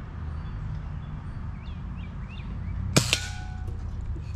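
A BB gun fires at targets set on the ground outdoors in Tennessee, with one sharp crack close by and a fainter second report right after, over a steady outdoor hum and a few faint bird chirps.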